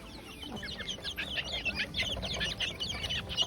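Chickens cluck busily and continuously, close by at a garden farm in Tanjung Sepat, with overlapping calls and no speech.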